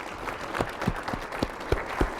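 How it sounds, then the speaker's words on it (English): Audience applause for panelists at a bicentennial celebration panel, a moderate steady patter of clapping with a few sharper claps standing out, heard alone with no talk. "please join me in a round of applause and thanks to our panelists"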